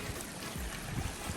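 Water running down a muddy hiking trail like a small river, a steady close rushing and trickling wash with no voices over it.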